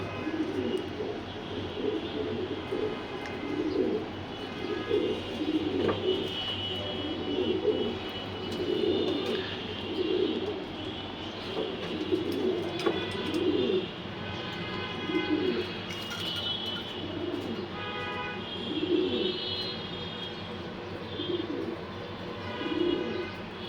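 Female racing pigeons, including a medium-sized short hen, coo in repeated soft low pulses with faint chirps throughout, fairly close and steady.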